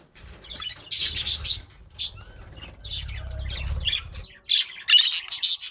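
Budgerigars squawk loudly while fighting inside a cage, with bursts of harsh, shrill calls, a quieter stretch of chatter and wing fluttering in the middle, then more sharp squawks near the end.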